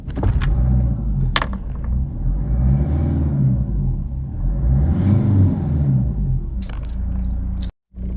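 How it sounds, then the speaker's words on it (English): A Ford Escort Mk5 LX turbodiesel engine cranking and catching, a loud low rumbling churn that rises and falls, with jingling key clicks before and after and a sudden cutoff near the end. "So we're just going to turn the Escort over."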